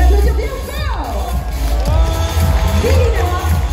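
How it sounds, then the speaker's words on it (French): Crowd at a cosplay championship contest in Paris cheers and claps to welcome a jury member, a loud, sustained roar of voices with whoops rising over a dense babble throughout. "Et on peut l'applaudir bien fort."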